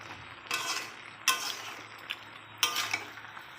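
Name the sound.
stirring and sautéing fish-head vegetable curry in a pan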